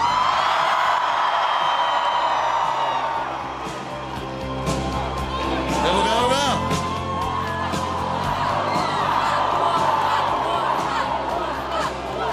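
A big outdoor crowd in Zagreb welcomes a handball player, Dominik Kuzmanović, with loud sustained cheering, whoops and rhythmic chanting, plus a nearby voice shouting over the roar.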